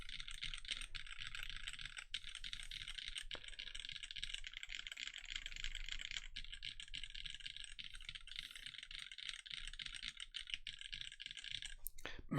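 Rapid, continuous typing on a JJW Moment60 mechanical keyboard fitted with DCS keycaps, a close, crisp clatter of keystrokes that runs unbroken and fairly quiet throughout.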